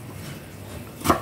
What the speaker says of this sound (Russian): Огурчики я режу соломкой.